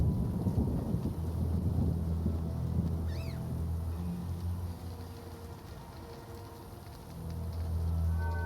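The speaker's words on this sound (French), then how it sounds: "Et il pleut toujours. Un peu moins." Rain falls steadily in The Witcher video game, with a low rolling rumble of thunder that swells and fades across the clip and a brief higher call in the middle.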